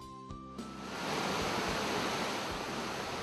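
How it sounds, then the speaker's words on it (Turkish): A mountain stream in the Çambaşı highland pasture rushes steadily, a dense, constant wash of flowing water that swells after a brief quieter start and continues alone. "Çambaşı'nın dereleri şırıl şırıl akar"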